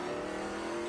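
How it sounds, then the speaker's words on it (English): A race car engine in SpeedTour racing at COTA drones steadily at a high pitch through a short burst, loud and unbroken, with no clear braking audible. "Yes, we just saw there Dyson accelerate and then slam on the brakes."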